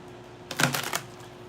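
A deck of cards being shuffled, a short burst of rapid riffling clicks lasting about half a second, close and fairly quiet, alone in an otherwise still room.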